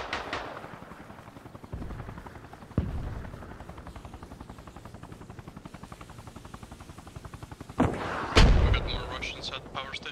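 Sustained gunfire in the military shooter game Arma Reforger, a fast regular stream of shots with a droning engine-like background and a few heavier blasts near the end, voices talking over it.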